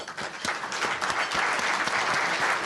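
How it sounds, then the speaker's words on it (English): Members at a chamber of commerce network luncheon give a short round of applause, a soft, even patter of many hands in a room that swells slightly and holds steady. "Let's give these members a round of applause."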